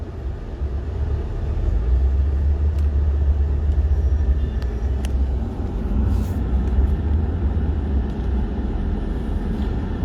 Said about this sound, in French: Je fais ce direct pour vous montrer ce qui est à l'origine de ce bouchon